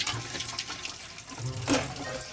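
Water runs from a motorhome tap with a soft, steady splashing hiss, fairly faint, with a brief louder gush near the end.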